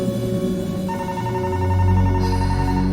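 A phone ringtone in the video game Late Shift rings steadily and clearly in a close, repeating electronic pattern, with no voices over it.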